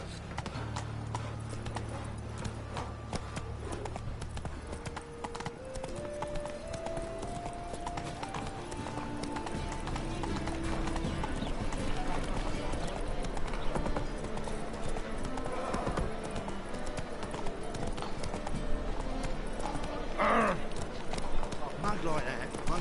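Roach, the horse in the Witcher 3 video game, trots with a steady rhythmic clip-clop of hooves under game music and ambience, with a voice speaking over it.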